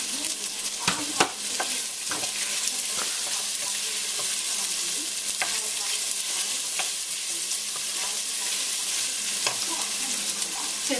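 Celery stalk stirred into a sizzling pot of vegetarian chili, steady bright frying hiss throughout with repeated sharp clicks and scrapes of a spoon against the pot, close and alone without talk.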